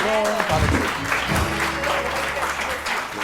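Studio audience applause on a live morning TV show, dense steady clapping throughout with a voice speaking over it at the start.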